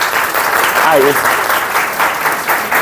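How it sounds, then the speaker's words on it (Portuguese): Applause from a group of trainees at a school training session, loud dense clapping throughout with a short spoken exclamation in the middle. "Uma salva de palmas para vocês"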